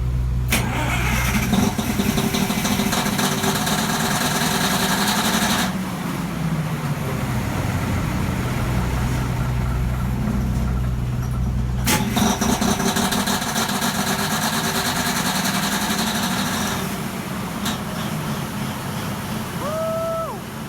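An early 1980s Cummins Big Cam diesel generator, old and smoky, cranks and fires up, then settles into a loud, heavy, steady diesel rumble, with a brief pause and a second surge of cranking and running.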